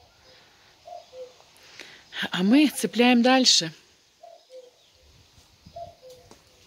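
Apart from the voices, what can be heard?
cuckoo calling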